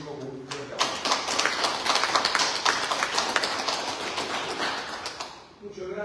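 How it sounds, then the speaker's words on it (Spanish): An audience at a book presentation in Rome applauds to welcome lawyer Miguel Sánchez, brisk, continuous clapping from a room of people, fading out at the end. "a quien recibimos con un fuerte aplauso"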